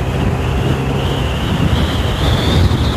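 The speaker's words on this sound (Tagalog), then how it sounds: "Uy, lakas ng hangin." Strong wind gusts buffet a microphone outdoors while riding from Commonwealth to Heroes Ville in Antipolo, Rizal, making a steady loud roaring rumble with no talk.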